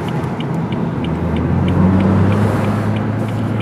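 A BMW 3 Series race car at Laguna Seca drives slowly into pit lane, its engine a steady, close, low drone with a faint rumble heard from on board.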